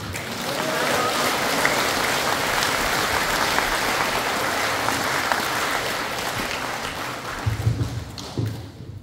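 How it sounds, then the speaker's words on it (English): Steady, dense applause from an audience at a celebration-of-life memorial gathering, a continuous clatter of many hands that holds at an even level before breaking up near the end. "Give her another big round of applause"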